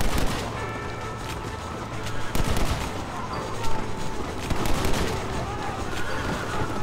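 Rapid minigun fire in the video game Red Dead Redemption, a dense, continuous rattle of shots with a few heavier bursts mixed in, loud and sustained throughout, with a voice speaking over it.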